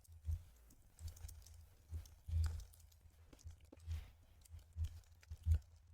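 Keyboard keys tapped in short irregular clusters while writing code, soft low clicks with pauses between bursts, close and fairly quiet, no talking.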